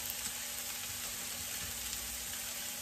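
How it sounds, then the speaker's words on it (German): Maultaschen frying lightly in a pan, giving a steady, even sizzle that continues alone without pause, with a constant faint tonal hum in the background. "Ich lasse das jetzt so ein bisschen anbraten, nur ganz leicht"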